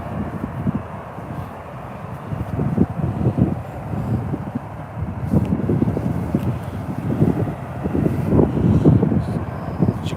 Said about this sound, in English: As you can probably hear, a bit windy here. Windy and cold.